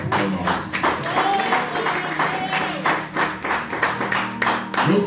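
A church congregation at a family worship service claps along together, dense rhythmic hand claps filling the room continuously with some voices mixed in.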